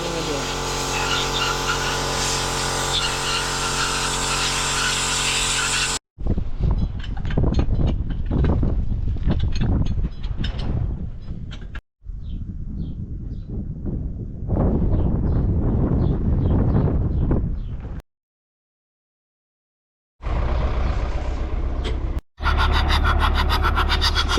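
A rebuilt MTZ-82 tractor diesel engine is run in cold on its first outing, a loud, rough steady drone with wind buffeting the microphone, broken by several abrupt cuts and a silent gap.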